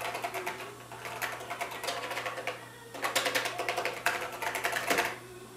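Rapid runs of key presses on the keyboard of a new-old-stock Tano Dragon laptop with linear switches, close and clicky, coming in bursts with brief pauses and no talk.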